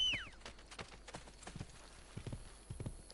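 Steady clip-clop of horse hooves in the video game Assassin's Creed Brotherhood, a run of evenly spaced hoof strikes with a brief whinny at the start, no talking.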